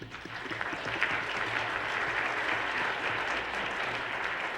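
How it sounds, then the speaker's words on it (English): Audience applause closing a seminar session, a sustained dense wash of clapping from a seated crowd that holds steady for several seconds without talk. "So, applause."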